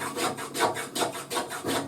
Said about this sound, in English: Using the block plane on the skew, takes a nice curly shaving.